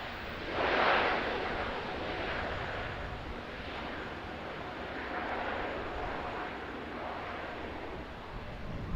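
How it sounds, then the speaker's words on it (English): An Airbus A321neo airliner comes in to land at Auckland Airport, its engines a steady, distant rumble and hiss that swells briefly near the start and then holds on without voices. "A321neo there coming in"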